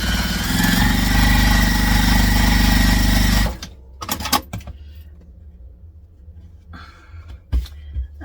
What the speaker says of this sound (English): So now I'm going to sew across the bottom.